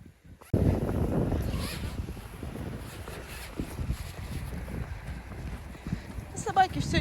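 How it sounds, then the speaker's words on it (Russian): Strong winter wind buffets the microphone outdoors during a snowy walk, a loud rumbling gusty roar that starts abruptly and keeps surging, with faint voices in the background. "Сильный ветер как раз в лицо."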